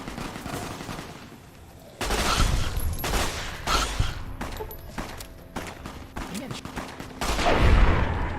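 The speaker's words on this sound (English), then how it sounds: "I hate when I hear guns going off and I don't know where they're coming from" Rapid bursts of gunfire in the video game Fallout New Vegas, clusters of sharp shots coming in waves, louder near the middle and end, with no talk over them.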